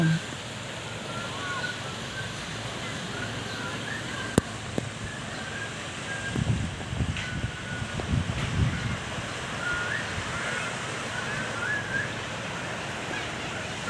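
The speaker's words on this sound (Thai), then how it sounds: "รับฟังเสียงคลื่นดูแสงพระอาทิตย์" A steady wash of surf rolls on a beach beside a seaside café, with faint wind noise, a soft continuous roar with occasional low swells and a few light clicks.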